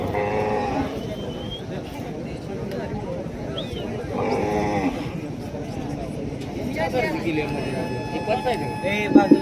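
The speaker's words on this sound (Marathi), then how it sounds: "नामवंत गायी या ठिकाणी दाखल आहेत" Cattle low repeatedly at a Khillar cattle show in Maharashtra, with loud moos rising from a busy, noisy crowd and steady announcer talk throughout.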